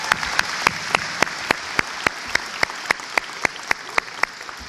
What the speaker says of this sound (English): you as well deserve a ginormous round of applause.